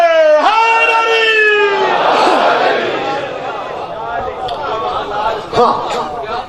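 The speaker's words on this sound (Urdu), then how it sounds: "علی حق کے نعرے" A crowd at a Shia majlis gathering shouting a religious slogan in response to a preacher, a loud surge of massed voices following a sustained call, then fading into murmuring babble.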